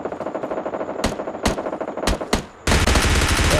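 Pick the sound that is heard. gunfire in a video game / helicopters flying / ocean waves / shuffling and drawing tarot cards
gunfire in a video game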